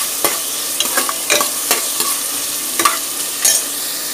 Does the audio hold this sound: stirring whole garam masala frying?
yes